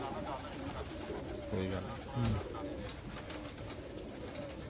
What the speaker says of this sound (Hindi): ये कबूतर जा रहे हैं जी